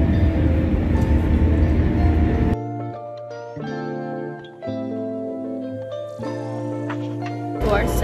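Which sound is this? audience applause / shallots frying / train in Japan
train in Japan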